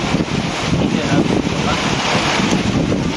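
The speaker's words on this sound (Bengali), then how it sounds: "আর এই দেখুন কি পরিমাণে বৃষ্টি হচ্ছে" Heavy rain pours down in a dense, steady roar that fills the whole clip without pause.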